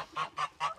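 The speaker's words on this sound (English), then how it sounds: "Here's our mama goose." Mother goose sitting on a nest of eggs, honking three times in an even rhythm, close and clear with no talk.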